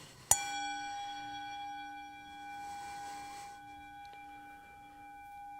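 A gong struck once, giving a sharp metallic hit followed by a long, ringing tone with steady overtones that slowly fades over several seconds, fairly quiet and alone.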